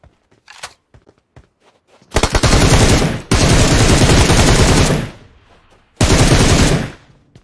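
Automatic gunfire in PUBG Mobile: a few faint early shots, then long loud sustained bursts of rapid fire with a short pause between, and a final burst after a brief gap.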